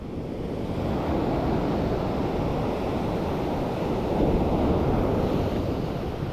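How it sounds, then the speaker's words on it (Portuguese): Strong wind and rolling sea waves on the shore during spin fishing off the Portuguese coast, a loud steady roar with continuous wind buffeting the microphone and surf swelling slightly toward the end, no voices. "Está difícil de sentir por causa do vento e da ondulação."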